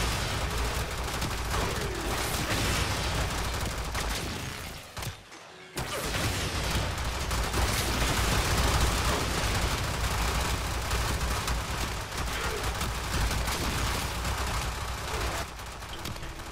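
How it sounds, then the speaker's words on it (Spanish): Gunfire in the Warframe video game rattles in dense, continuous bursts, loud and sustained with only a brief break partway through. "Ahí pueden ver cómo las balas me rebotan y se les regresan haciéndoles daño a ellos mismos."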